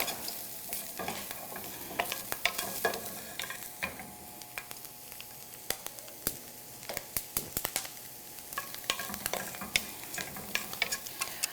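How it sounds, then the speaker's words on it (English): Corn kernels charring in a hot pan give off a continuous sizzle, broken by frequent sharp pops and crackles. Near and fairly loud throughout, with no talking. "the corn is starting to char quite nicely"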